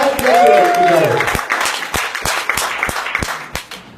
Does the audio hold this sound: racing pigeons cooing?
no